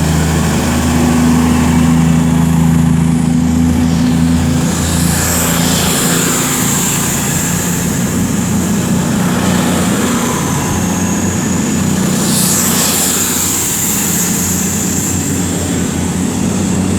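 A propeller aircraft passes overhead near a railway station, its steady droning engine hum filling the scene, with a low rumble early on and a rising whine toward the end, loud and continuous without speech.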